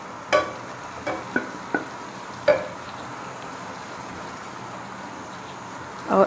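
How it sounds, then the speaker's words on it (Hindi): Vermicelli roasts in a pan of melted fat, heard as a few sharp scrapes and clinks of a spoon at uneven intervals over a soft, low background hiss. "अब इसमें मैं ये सेवइयाँ डाल दूँगी"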